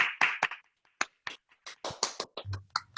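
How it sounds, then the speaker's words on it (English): Workshop participants at a gelatin monoprinting session clap together over a video call after unmuting; the sparse, uneven claps arrive as separate sharp bursts through thin, compressed audio, with a little background noise near the end. "let's give ourselves a quick round of applause"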